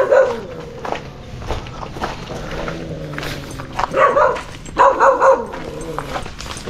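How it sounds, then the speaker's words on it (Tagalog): A dog at a construction site visit in Bayambang, Pangasinan barks in a few short bursts near the middle and end, close by, over footsteps and site background noise. "May aso."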